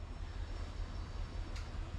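A 600hp bus engine fitted in a pickup truck runs at a steady idle, a close continuous low rumble with rhythmic low-end pulsing and no talk over it.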